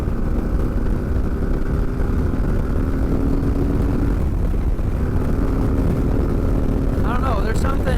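A 2023 Harley Davidson Street Glide Special 120th Anniversary Edition accelerating, its engine droning loudly with a rising pitch, then easing and climbing again, while a rider talks over it.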